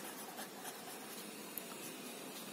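Marker or chalk scratches and rubs across a board during a maths lesson in a classroom, a steady faint scraping texture with no talk over it.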